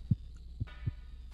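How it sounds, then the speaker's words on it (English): Creepy heartbeat in The Cat Lady horror video game, heard as soft, deep, muffled thumps in a slow irregular rhythm over a low steady hum, with no talking. "Sounds like there's some kind of weird heartbeat sound in here, too."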